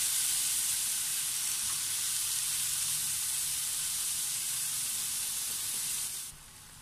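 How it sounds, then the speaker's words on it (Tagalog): Chopped tomatoes sizzle in a frying pan while cooking pork binagoongan, a steady close hiss and crackle that drops off abruptly near the end. "ilalagay na natin ang ating chopped na kamatis. And itutuloy lamang po natin ang pagluto"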